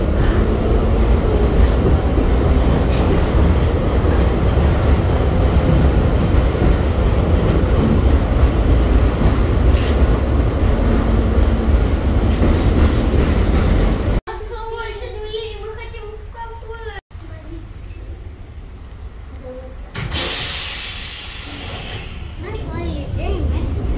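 Steady low rumble of a tram rolling along rails, loud and continuous, then quieter interior noise with a voice and brief talk, inside a tram with a leaking roof dripping throughout.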